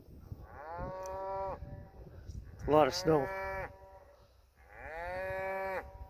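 Cattle in a snowy feed yard moo in long, loud calls, three drawn-out bellows with a brief rough overlapping call in the middle, close by, and a voice speaks briefly between them.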